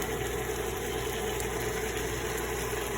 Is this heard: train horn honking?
no